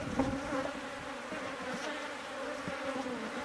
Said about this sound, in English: This is a very active hive as far as producing brood, the eggs and the larvae.